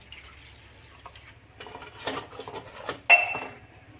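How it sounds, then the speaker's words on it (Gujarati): A khaman dish is set into a dhokla steamer with quiet metallic clinks and scrapes, building to a sharper clatter of metal on metal near the end. "હવે ડીશને આપણે ઢોકળિયામાં મૂકી દઈશું"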